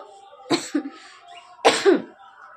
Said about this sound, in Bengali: একটু কাশি হয়েছে হালকা হালকা